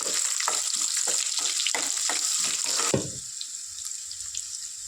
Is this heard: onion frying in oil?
yes